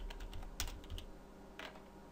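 A few crisp keystrokes on a computer keyboard, some clustered and some spaced apart, close and fairly quiet over a low steady hum.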